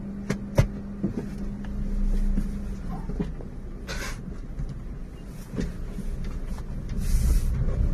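A Maruti Suzuki Celerio with a gear shifting fault, a P188C transmission range sensor code, rolls along with a low engine drone and road rumble, broken by occasional clicks and knocks from inside the cabin.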